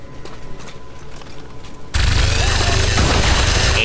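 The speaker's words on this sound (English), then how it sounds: "She's gonna target that mech and open fire." In XCOM on Xbox One, a squad soldier opens fire on a mech. After a quieter stretch of game ambience, a loud, dense burst of gunfire erupts and keeps going to the end.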